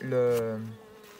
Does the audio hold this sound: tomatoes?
no